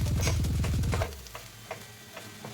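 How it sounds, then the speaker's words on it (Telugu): Puffed rice tossed with spice powder frying in a pan for upma, a busy crackling sizzle that is loud for the first second and then drops to faint scattered ticks. "ఇది ఈ పౌడర్ అంతా బాగా పట్టే వరకు మనం ఫ్రై చేసేసుకుందాం"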